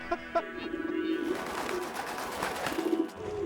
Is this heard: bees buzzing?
no